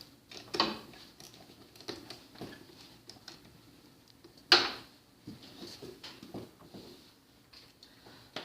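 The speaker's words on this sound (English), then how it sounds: "Okay, I'm going to disconnect this negative cable." A negative battery cable being disconnected for a parasitic draw test: sparse metallic clicks and rattles of the clamp and tool, with one sharp, louder clack midway and small handling knocks around it, close and otherwise quiet.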